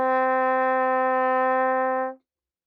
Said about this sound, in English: the next note we're going to play real quick is our concert C